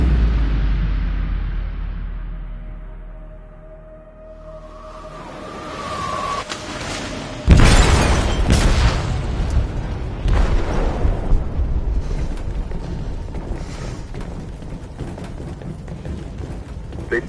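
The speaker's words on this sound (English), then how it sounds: "They detonated an explosive in the hold." Explosive detonating in a ship's hold in a PS4 video game, a sudden loud blast after a low rumbling lead-in, followed by a long, dense rumble of crashing debris and chaos.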